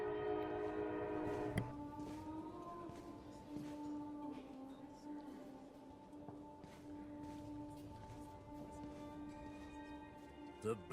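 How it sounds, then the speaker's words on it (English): A train horn sounds in sustained tonal blasts over the rumble of a passing train in the video game The Blood of Dawnwalker, faint and steady with occasional clicks, a voice briefly audible. "Here comes the train."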